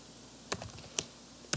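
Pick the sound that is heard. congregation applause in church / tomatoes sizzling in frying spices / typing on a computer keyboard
typing on a computer keyboard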